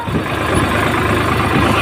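A tractor engine running near wheat-sowing preparation work, a steady loud low rumbling drone that holds even without clear rise or fall.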